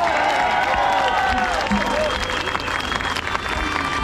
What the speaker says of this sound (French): Un tonnerre d'applaudissements pour Anne-Marie Coustou et pour la cause qu'elle porte.